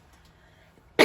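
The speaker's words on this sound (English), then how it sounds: "Got a bit of a cough." A single cough bursts out loud and close right at the end, after near-silence.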